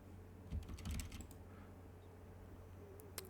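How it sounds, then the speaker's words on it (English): Someone types into a text box on a computer keyboard, with a short burst of soft, quick key clicks and a few isolated taps afterward over a low steady hum. "every time I go and type in something to this text box, it goes and puts things into the console"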